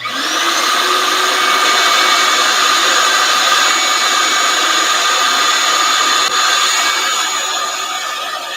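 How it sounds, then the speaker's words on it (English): A shop vacuum cleaner whines steadily and loudly close by in a workshop, its motor holding a constant high-pitched roar throughout. "Why don't we just use the vacuum?"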